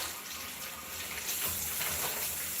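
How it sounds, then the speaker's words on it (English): Steady rush of running tap water splashing into a bowl as food is rinsed at a kitchen sink, close and continuous with no talk. "I like to go ahead and rinse everything while I put it in the bowl"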